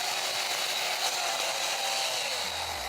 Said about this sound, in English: Chainsaw itself is slightly modified to cut ice.